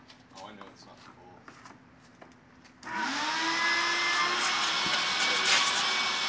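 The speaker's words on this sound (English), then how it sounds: "It's pretty much as we can get just with the shop vac." A shop vac cleans the interior of a V6 Mustang drift build car, switching on partway through into a loud, steady whining roar after quieter handling noises and some voices.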